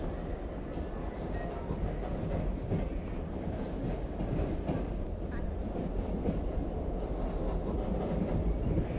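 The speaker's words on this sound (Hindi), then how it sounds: "तो हम लोग इस वंदे भारत एक्सप्रेस को ओवरटेक कर रहे हैं।" Inside the 12628 Karnataka Express as it overtakes the Vande Bharat Express at reduced speed: a continuous low rumble with wheel clatter throughout, and a voice talks faintly over it.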